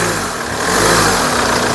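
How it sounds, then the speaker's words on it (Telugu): A Mahindra XUV 500 W10 from 2016/17 runs with its engine at a steady, loud, close idle hum, with no other sounds. "అలాగే ఇంజన్ యొక్క నాయిస్ పర్ఫెక్ట్గా అయితే ఉంది."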